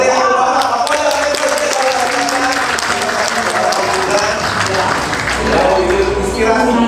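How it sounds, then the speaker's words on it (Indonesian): A crowd at a ceremony hosted with traffic police officials claps loudly and continuously, the applause steady and dense throughout with some crowd murmur underneath. "kita tepuk tangan yang meriah."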